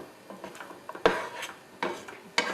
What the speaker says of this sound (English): we're sautéing them for a few minutes